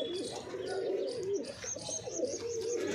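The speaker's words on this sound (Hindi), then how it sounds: "एकदम सुपर क्वालिटी के कबूतर है जी, सारे उड़ार के लिए फुल तैयार कबूतर है जी" Punjabi Malwai pigeons coo softly and repeatedly at close range, low rolling calls mixed with faint chirps from other birds in the background.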